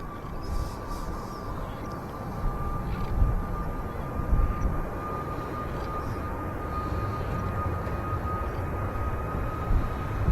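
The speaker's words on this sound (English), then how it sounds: "Ryanair Max now rolling." Ryanair Boeing 737 MAX rolling for takeoff at Manchester Airport, a steady broad jet engine roar with a faint thin whine, heard at a distance and holding at an even level throughout.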